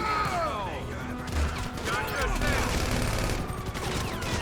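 Rapid Uzi bursts in GTA 5 crackle in a dense, chaotic fusillade amid crashes and game effects, loud and continuous with a voice speaking over parts of it.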